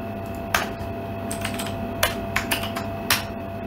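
Java code being typed on a computer keyboard: sparse, separate key clicks, close and fairly crisp, with a few sharper strokes spread over a few seconds and no talking.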